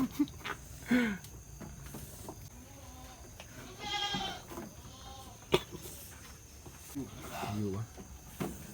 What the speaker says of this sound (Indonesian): Nama kambing Ayu.